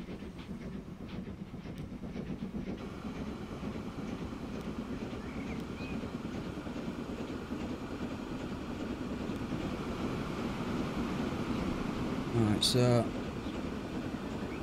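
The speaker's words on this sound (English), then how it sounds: "You know, it's a new train. I want to check it out." A train rolls along rails in the video game TF2 on a Great Britain map, a steady low rumble with wind-like noise throughout while someone talks over it, ending in a brief louder tonal burst.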